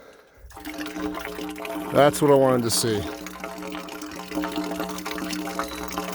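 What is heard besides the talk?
water flowing from ram pump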